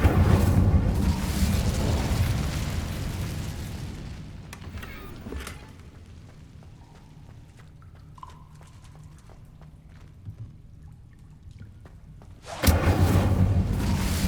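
Incendio fire spell cast in the Hogwarts Legacy video game: loud, broad whooshing bursts of flame at the start and again near the end, with a quieter stretch of faint ambient game sound between them.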